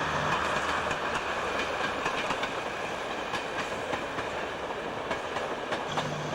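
An early diesel multiple unit train rolls along steadily with a continuous rumble and faint rhythmic clicking of wheels over rail joints, heard from inside.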